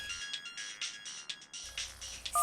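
A mobile phone ringtone plays as a bright, pulsing electronic melody in repeated bursts, fairly close and alone, in a comedy scene.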